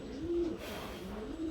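A pigeon coos nearby, a short soft rolling call repeated twice, heard alone against quiet background.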